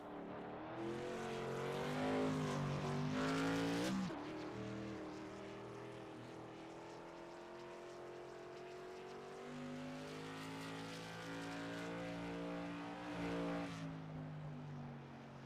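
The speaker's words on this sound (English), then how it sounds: "It's like Matt Moniak is on the track, maybe going to take a lap at number 21." Modified race car lapping the Thompson speedway track, a loud engine howling through gear changes as it accelerates, easing off and rising again, with a sharp cutoff near the middle and another near the end.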